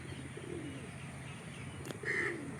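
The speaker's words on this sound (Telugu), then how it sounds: "ఇక్కడ చూడండి వైట్ కలర్ పావురం ఎంత బాగున్నాయి, క్యూట్గా ఉన్నాయి ఇవన్నీ" White pigeons coo at a cow shelter, giving soft, low, repeated calls close by over a steady background hum, with a brief louder burst near the end.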